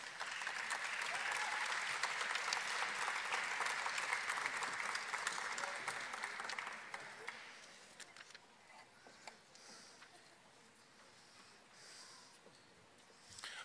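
Applause for postgraduate graduates at a spring graduation ceremony, full steady clapping for about seven seconds that thins to scattered claps and a quieter room.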